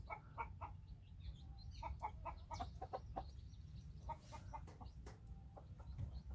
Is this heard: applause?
no